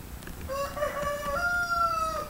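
A rooster crows once in a long, drawn-out call, moderately distant, over faint outdoor background noise.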